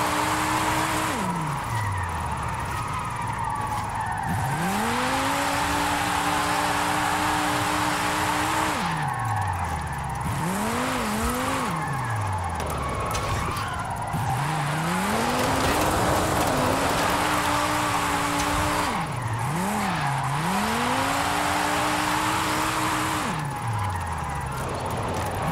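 A 1986 Ford SVO Mustang drift car with a tuned 1127 hp all-wheel-drive setup on stock tires, racing in Forza Horizon 5: engine revs rise and fall in repeated sweeping cycles with tire squeal during slides, loud and continuous, with faint voices underneath.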